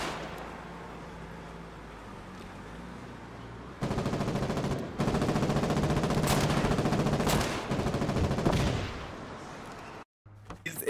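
Bursts of gunfire from AI soldiers in the war game Foxhole crack out in rapid automatic volleys, loud and close after a quieter stretch, then cutting off abruptly near the end.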